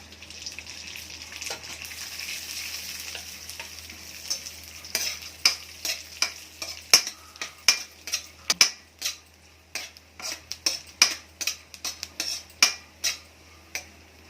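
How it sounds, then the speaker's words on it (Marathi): Chironji and cashew pieces roasted together in a pan over low heat, a faint sizzle under repeated clinks and scrapes of a spoon stirring against the metal, growing steadier and more rhythmic. "चारोळे आणि काजूचे तुकडे एकत्र आपण भाजून घ्यायचे"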